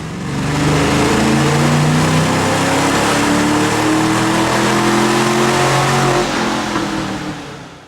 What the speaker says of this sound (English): Now we can run the car on the dyno and see how much power we've picked up with these super easy and affordable bolt-ons.